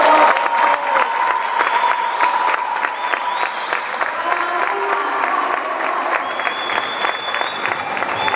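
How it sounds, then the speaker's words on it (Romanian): Sustained applause rises from the stands at a women's foil fencing European Cup final in Bucharest, a dense crowd of clapping hands that carries on steadily throughout, with faint voices mixed in. "ropotul de aplauze din tribună"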